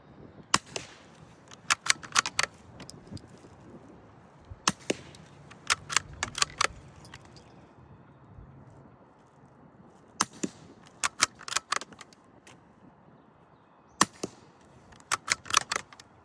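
Sharp, quiet shots from a suppressed Savage MK2 rifle loaded with CCI Quiet ammo, fired in several quick clusters of cracks with pauses between, each followed by faint mechanical clicks.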